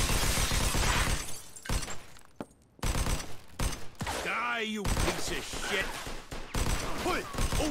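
Gunfire in Mafia 2: Definitive Edition, dense bursts of shots with breaking glass and crashes, loud and close, coming in waves with short pauses, voices shouting between volleys.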